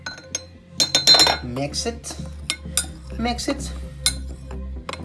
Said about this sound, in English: 1/4 cup of self-rising flour and 1 tablespoon of cornstarch. Mix it,